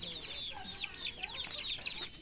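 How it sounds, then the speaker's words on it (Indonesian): Small chicks cheep rapidly in high, repeated peeps, several overlapping nearby, with faint clucking in the background. "Oh, anak ayam ada ya."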